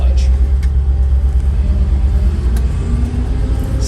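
A car engine drones and rumbles close by, its pitch sinking as revs drop while coasting in neutral ahead of a clutchless gear shift, steady and loud throughout.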